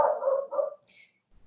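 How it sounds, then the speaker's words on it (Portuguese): A pet dog barks close by in a short burst of one or two barks, followed by a faint higher squeak and then near silence. "Gente, o meu cachorro começou a latir."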